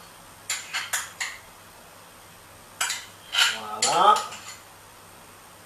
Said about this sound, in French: On mélange bien encore